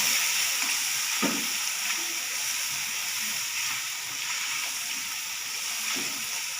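Tomatoes, salt and masala frying in a pan for a cauliflower and beef curry, giving a steady close sizzling hiss with faint occasional stirring scrapes throughout.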